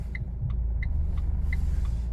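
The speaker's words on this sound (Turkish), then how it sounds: "arkaya doğru hafif şöyle bir geri yapacağım" A Renault Fluence 1.5 dCi 110 hp diesel reversing slowly, with a steady low engine rumble throughout and a few soft, brief higher clicks on top; no talk.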